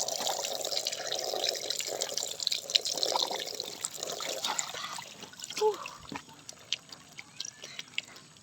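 Water runs and splashes steadily from a DIY shower under a tarpaulin, a close trickling and pattering stream with scattered drips and small knocks, no clear talk on top.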